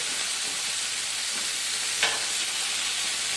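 Chicken wings sizzle on a hot grill at a garage cookout, a steady close crackling hiss that runs throughout with one brief sharper pop midway and no talk.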